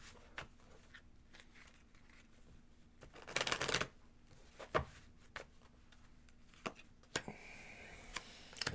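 Lenormand fortune-telling cards being shuffled, a run of soft riffling flicks and slaps with a denser burst midway, quiet and close with no talking.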